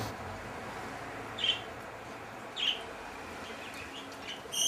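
Tropical birds kept in a fish tank give a few short, sparse chirps, spaced a second or so apart over a quiet, hissy indoor background.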